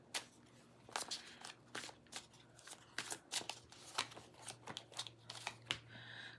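Tarot cards being shuffled and drawn: a quick, close, quiet run of crisp card riffles and flicks in an irregular rhythm, with a soft steady hum underneath.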